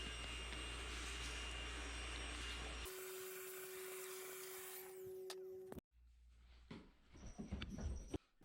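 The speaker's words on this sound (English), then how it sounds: "we are just going to vacuum the exterior of the donor transmission" Shop vacuum cleaning the outside of a donor Chevrolet S10 T5 five-speed transmission, a steady loud suction roar that cuts off, then scraping and rattling sounds as the nozzle moves over the casing.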